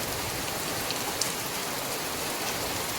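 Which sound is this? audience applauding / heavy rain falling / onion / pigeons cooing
heavy rain falling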